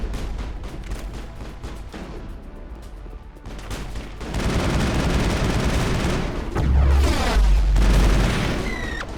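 A gun emplacement in Mass Effect firing heavy rounds, booming blasts and rumbling reports building into loud continuous bombardment.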